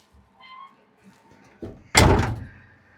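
A car trunk lid is heard, with a faint shuffle, then a moderate thunk followed by a loud, close slam-like clunk near the end of the clip, with no talking.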